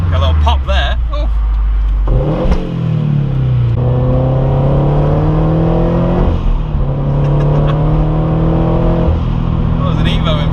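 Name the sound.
turbocharged Toyota GT86 engine accelerating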